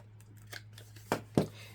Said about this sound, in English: I need to snip my corners on the bottom.